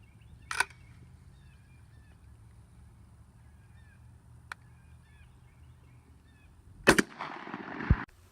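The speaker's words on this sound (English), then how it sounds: "Our fifth round that we're going to shoot is the Winchester superX." Shotgun fired with Winchester Super-X 3-inch 1 1/8 ounce number 2 steel shot, one sharp close blast near the end, with outdoor geese honking faintly in the background.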